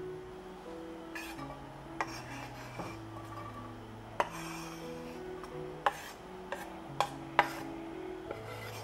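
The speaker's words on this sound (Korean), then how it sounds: "일상 쓰는 스마일 주걱 갖고 볶아주시면 되고요" A spatula stir-fries Neapolitan pasta ingredients in olive oil in a hot pan, giving sparse, light scrapes and sharp clicks against the metal over a steady low background hum.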